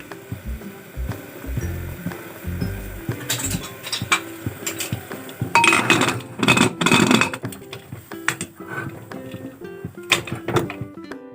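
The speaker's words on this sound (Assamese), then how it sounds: "মাছখিনি দিয়াৰ পিছত মই এতিয়া ঢাকনিখন মাৰি দিম।" A lid is put on a cooking pot of fish curry made with yogurt, giving a series of metallic clanks, scrapes and rattles that are close and fairly loud, with quiet gaps between them.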